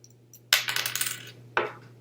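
A fidget spinner with a plastic bearing handled close up: a sharp clattering rattle that trails off, then a second shorter clack a second later, over a steady low hum.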